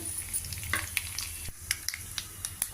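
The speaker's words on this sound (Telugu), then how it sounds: "ఇందులో కొద్దిగా ఇంగువ పోపు వేగింది" Oil sizzles steadily in a pan as a tempering of mustard seeds, chilli and asafoetida fries, with small crackles and pops scattered throughout, close and moderately loud, no voices.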